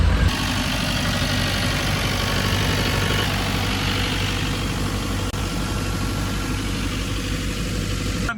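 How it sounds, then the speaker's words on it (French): The engine of a farm irrigation pumping system runs loud and steady, a constant close-up drone with low rumble that holds unchanged for several seconds, no talking. "Derrière, il y a le système de pompage. Tout le système de caisson, c'est tout le moteur."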